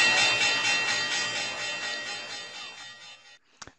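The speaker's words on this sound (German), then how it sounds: "Und jetzt kommt die Glocke." Opening bell rung at 9 a.m. for the start of DAX trading: a single loud, ringing bell-like tone, rich in overtones, that slowly fades over about three seconds, followed by a brief sharp click.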